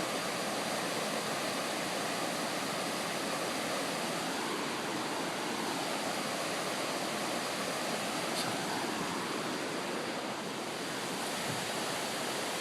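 A waterfall on a mountain creek trail in the Smoky Mountains pours as a steady, dense rushing hiss, continuous and unchanging, with no voices.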